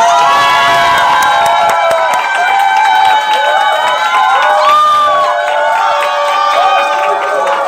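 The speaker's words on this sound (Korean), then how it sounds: "다 같이 기립박수로, 큰 박수로 모셔보도록 하겠습니다" A crowd gives a standing ovation at a business gathering, welcoming a speaker onstage with loud, sustained applause and cheering that fills the whole stretch without a break.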